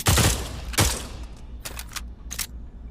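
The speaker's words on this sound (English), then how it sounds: "then releasing the slide is perfect" Metallic clacks of a gun slide being worked and released in the VR shooter Pavlov, two loud sharp clatters followed by a few lighter clicks, close and with no talking.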